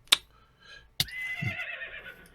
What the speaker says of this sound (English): You are a bad skeleton horse.